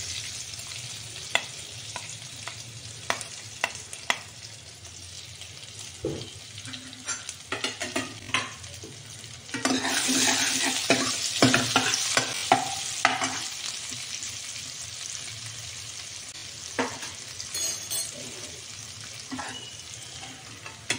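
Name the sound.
mustard seeds, asafoetida, ginger-garlic paste sizzling in hot oil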